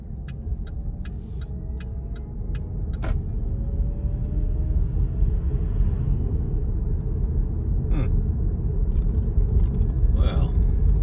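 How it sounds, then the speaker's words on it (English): Inside a car moving through busy Sunday evening traffic, a steady low road rumble and engine drone fill the cabin, with quick ticking at the start and a few faint passing sounds. "There's just no way to get away from traffic tonight."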